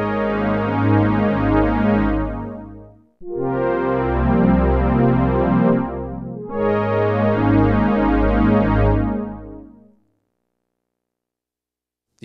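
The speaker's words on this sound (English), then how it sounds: "we hear the lower octave come into play and the movement of the pulse width modulation" Oberheim OB-8 synthesizer preset with delayed pulse width modulation, three sustained chords with a lower octave joining and slowly shifting timbre, ending in silence.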